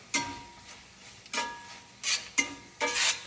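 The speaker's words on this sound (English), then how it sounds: "I'm going to dump them straight into this sauce and mix all that up very well." Shishito peppers stirred into a sauce in a pan, with a few quiet, separate scraping strokes and light sizzle bursts heard close up and alone.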